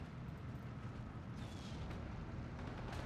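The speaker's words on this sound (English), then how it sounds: "50 mil mortar." A 50 mm mortar firing in the Steel Division 2 war game, a deep rumbling boom rolling over a continuous low battlefield roar without clear separate shots.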